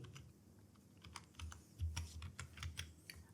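Keys clack on a computer keyboard as a word is typed, a quick run of crisp, close taps with low background hum, no voices.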